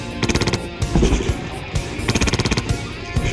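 An airsoft light machine gun fires in rapid bursts, two clattering strings of quick shots separated by a short pause, close and loud.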